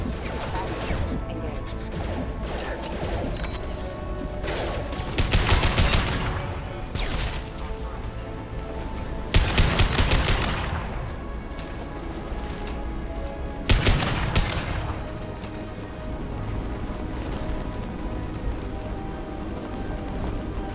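Firefight gunfire in the Mass Effect 2 video game, with loud broadband bursts of shots and impacts around 5, 9.5 and 14 seconds over steady music and game ambience, and voices talking at times.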